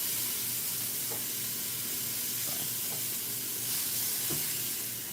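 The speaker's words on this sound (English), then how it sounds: "sorry for all that sizzling" Hamburgers fry in a pan nearby with a steady, loud, broadband sizzle and hiss that runs throughout, with a few faint clinks and pops underneath.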